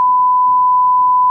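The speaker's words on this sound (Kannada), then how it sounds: "ಫೋನ್ ಬಂದಿತ್ರಿ" A phone gives a single steady electronic beep, loud and unbroken for over a second with nothing else around it.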